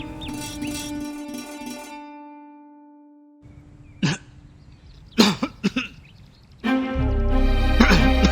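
A man coughs in a Malayalam short film, with one sharp cough and then a quick cluster of harsh, hacking coughs close to the listener, set between stretches of sustained background music.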